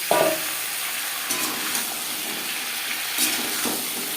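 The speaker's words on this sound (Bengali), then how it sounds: "তিন চার মিনিট আলু ভেজে নেওয়ার পর দিয়ে দেবো সৈন্য ডাটা" Potatoes and drumsticks frying in a pan give a steady, close broadband sizzle throughout, with a few louder bursts as the pieces are stirred or shifted; no one speaks.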